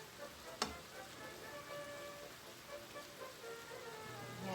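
Pinakbet, the Ilonggo-style vegetable stew, simmering uncovered in coconut milk gives a soft, steady bubbling sizzle with faint crackles, plus one sharp tick near the start.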